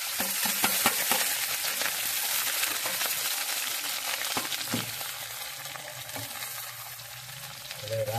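Onion frying in a pan with masala spices, a steady close sizzle that fills the whole stretch, with scraping stirs and occasional clinks of the utensil against the pan.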